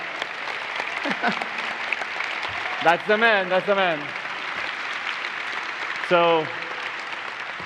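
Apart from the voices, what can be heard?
audience applause at SIGGRAPH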